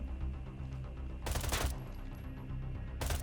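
Gunfire in the video game Arena Breakout, two loud bursts of rapid shots separated by a short pause, close and sharp.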